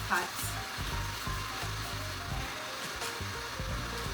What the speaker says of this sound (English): Alright, so now I'm going to add my curry to my pot.